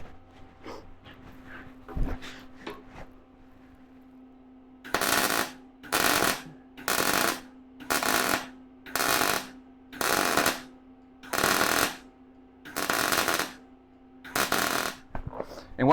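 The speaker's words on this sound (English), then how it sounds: "basically I got to do a quick spot weld bead to get it to" Quick spot welding on a firewood bundler frame: about nine short, loud bursts of crackling, buzzing arc welding come in an even rhythm, each lasting under a second, with a low background hum and no talk.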